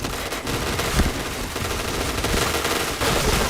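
Rapid video-game gunfire, dense bursts of automatic shots crackling loud and continuous with no pauses.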